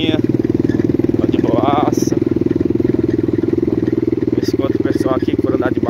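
A mini Honda CRF dirt bike runs nearby on a trail ride, its small engine putting out a steady, rapid putter throughout, with brief higher revs and a voice speaking over it.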